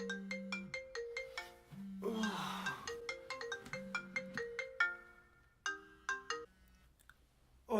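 A telephone ringtone rings repeatedly in a melodic electronic pattern, loud and close, in the middle of the night with no talk over it.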